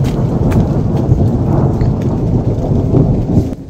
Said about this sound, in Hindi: आसमान में भयंकर वाली थंडरिंग होने लग गई है, और फिर से बूंदाबांदी शुरू हो गई है